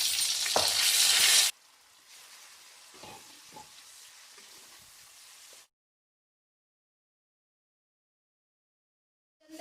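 Ginger and garlic sizzling loudly in a pan of frying fish, a bright hiss for the first second and a half, then a quieter steady crackle with soft stirring scrapes before it falls silent.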